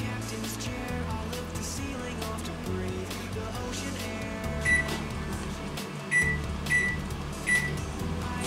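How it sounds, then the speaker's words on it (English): A microwave oven hums steadily up close, with a constant droning whir and a few faint clicks and beeps near the end. "30 seconds in the microwave."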